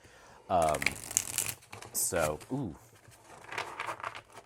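Riffle shuffling of slippery, bendy tarot cards, with crisp papery bursts of cards flying through the riffle, mixed with a person talking over it in a quiet room.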